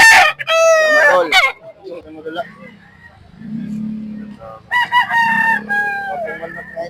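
Rooster crowing at a busy chicken market in Cebu City, several loud close crows rising and stretching out, with vendors haggling over the birds in between.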